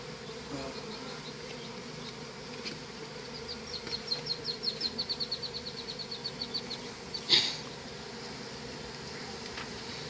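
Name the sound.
bees buzzing around an open beehive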